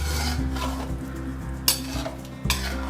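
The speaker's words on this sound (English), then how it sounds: "you can just add it at the last and mix it well." Spoon stirring cottage cheese cubes into a pot of vegetable korma, a close scraping and clinking against the pan with a soft sizzle underneath.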